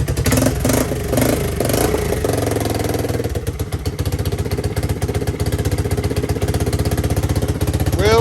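A small ATV engine runs loud and close in a workshop, revving hard in the first few seconds, then settling into a steady, rapid throbbing idle with occasional surges.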